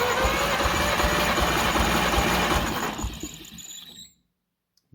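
An Oliver 70 tractor engine cranks over on the starter during a compression test, a steady loud churning drone for about three seconds before winding down and cutting off into silence.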